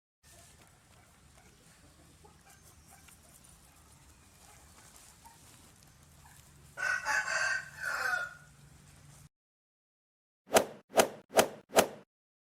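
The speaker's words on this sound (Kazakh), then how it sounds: "бұл тауық." A cartoon chicken and rooster: a burst of crowing and clucking, fairly loud, then a short silence followed by four evenly spaced, sharp plopping hits.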